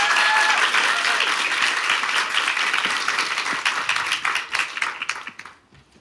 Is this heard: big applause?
yes